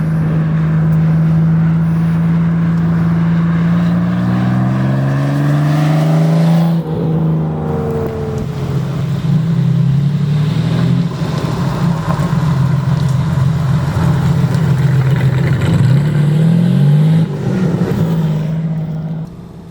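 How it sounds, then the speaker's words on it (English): A 1960s Jaguar XJ13 Le Mans race car is driven on a public road, its engine a loud, close, sustained roar with rising and falling gear pulls, shifts and surges in revs, and no talking over it. "So the XJ13 is a track car. But what's it like on the road? Very loud is the answer."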